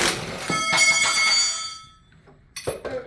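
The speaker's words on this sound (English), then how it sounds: "a wrench fell off the workbench here" A metal wrench drops off a workbench during a Jeep Dana 30 upper ball joint installation, giving a bright ringing clang that slowly decays, then a second shorter metallic knock a couple of seconds later.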